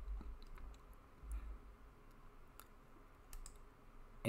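Mouse clicks from someone deploying a Node-RED flow in Home Assistant, a few soft, sharp taps scattered over a quiet, low hum with no talking.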